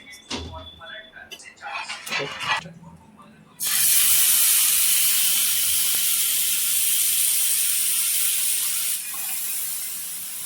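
Marinated fish is laid into a hot pan and bursts into a loud, steady, close sizzle that carries on for several seconds. Brief clattering and talk come before it.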